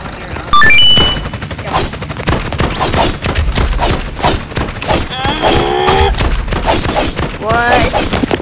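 Rapid gunfire in a video game, with dense overlapping shots and loud bursts over game effects and electronic tones, while voices talk and react throughout.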